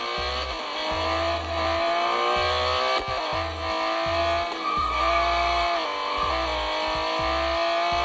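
A car in a mobile racing game brakes and skids, with a loud, steady engine drone cut by repeated rhythmic tire screeches and skid bursts, close and continuous with no voices.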